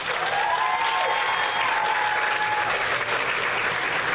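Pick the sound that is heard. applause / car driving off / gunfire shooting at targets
applause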